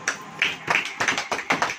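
A church congregation claps along at a service, a run of sharp, fairly even claps following a steady rhythm, close and moderately loud, with no talking over it.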